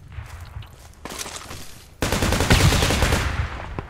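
Gunfire in the Project Reality military shooter game: sustained bursts and rapid shots, louder and denser in the second half, with possible footsteps in the quieter opening.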